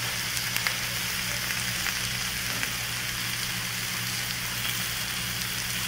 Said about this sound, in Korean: 노릇노릇하게 지글지글 좀 했는데